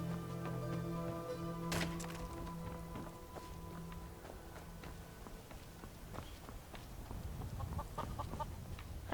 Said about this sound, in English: Hi, chicken.